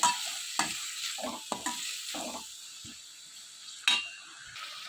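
Carrot, tomato and coriander sautéed in a pan for masala pasta, a close steady sizzle broken by repeated scraping stirs of a spatula and a sharp clink near the end, with no talking.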